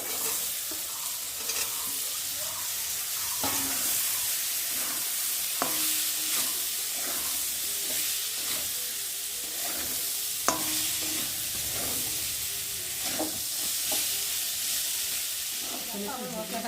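Dried lota fish strips sizzle and crackle in hot oil with spices and cumin powder, a continuous close frying hiss with regular scraping strokes of a spatula stirring through the pan.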